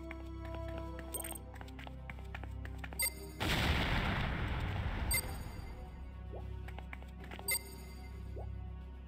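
Command & Conquer battle sounds as artillery and gunfire hit a Nod harvester, with a loud, noisy burst of explosions and shots in the middle amid quieter game effects and sporadic clicks.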